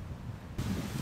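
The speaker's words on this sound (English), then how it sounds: "so it's gonna be kind of windy here" Wind blows outdoors in Texas, a steady broadband rush buffeting the microphone that swells louder about halfway through, with no speech.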